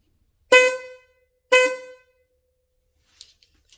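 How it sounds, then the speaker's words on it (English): Classic Chevy horn wired straight to the battery for a test, sounding two short, loud honks about a second apart, followed by faint clicks. "if we hear a horn, the horns are working"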